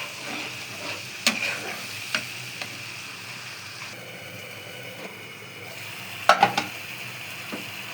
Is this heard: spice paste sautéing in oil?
yes